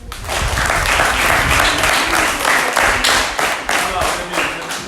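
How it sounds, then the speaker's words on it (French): Audience applause at an outdoor health screening campaign for child malnutrition, hypertension and diabetes: dense, steady clapping from a crowd, fairly close and loud, running throughout with a few voices mixed in. "applaudissez."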